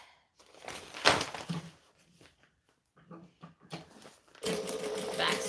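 A sewing machine stitches in quick bursts, stopping and restarting as it backstitches, with a sustained loud run at the end; close and clear.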